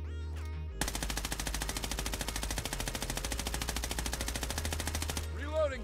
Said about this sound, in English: we're going to fire our gun, and we're gonna just let it fire away without controlling it at all